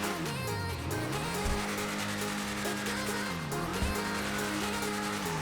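A Lampadati Viseris sports car driven in GTA Online, its engine revving and rising through gears with pitch drops at shifts, loud and continuous, with brief tire squeal.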